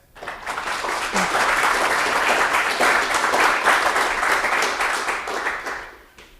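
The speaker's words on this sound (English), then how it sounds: "But we're just another round of applause for these guys." A conference breakout-session audience gives presenters a round of applause: a dense, sustained wash of many hands clapping that swells quickly, holds steady for several seconds, then fades out.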